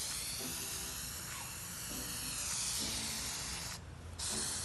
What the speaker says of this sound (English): The important thing with spray paint is you need to do it in an even layer